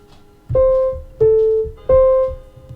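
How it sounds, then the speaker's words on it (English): A chime clock strikes three times at an even pace, each clear, sustained bell-like tone ringing out and fading before the next, close by with no talk. "That's the clock. That's the sound the clock makes."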